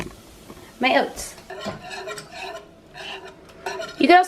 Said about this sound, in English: stir in the oats